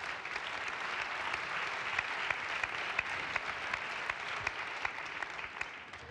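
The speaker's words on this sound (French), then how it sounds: "On peut l'applaudir une dernière fois." An audience at a French women's parliament event applauds minister Laura Flessel in a steady, dense round of clapping that stays fairly distant and even and carries no voices.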